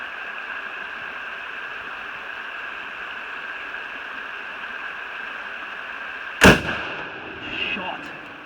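A single loud rifle shot cracks out during a stag hunt, a sharp close blast with a short echoing tail, over a steady background hiss of running water or wind.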